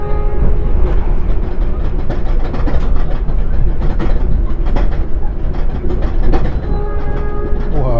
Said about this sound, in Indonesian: barusan ketemu dengan kereta baru KRL buatan China nih ya